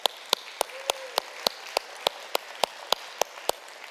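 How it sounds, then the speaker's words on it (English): Steady, evenly spaced hand claps, about a dozen over four seconds, fairly faint and crisp, from an attendee at a conference, with no talk over them. "Give each other a round of applause."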